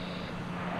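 Broad, steady jet roar of a C-17 transport aircraft flying over an airfield at an air show, loud and continuous through the brief moment, with no voices.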